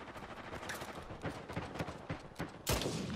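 Gunfire in the video game Uncharted 4 during a sniping match: a quick run of sharp shots and bursts at uneven intervals, rather faint, ending in one heavier blast.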